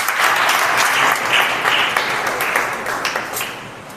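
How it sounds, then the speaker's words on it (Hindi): Loud, dense clapping from a church congregation fills the space, close and sustained, then thins slightly toward the end, with no speech over it. "ताली मारकर प्रभु को धन्यवाद करें।"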